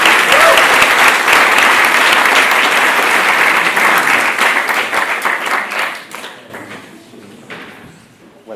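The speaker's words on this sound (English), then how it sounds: "So a big round of applause." Audience applause at a symposium on psychedelics research, loud and sustained for about six seconds from a large crowd before tapering off into scattered claps.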